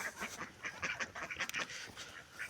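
Pekin ducks quack over and over in an irregular, overlapping flurry of close, moderately loud calls, with no talking.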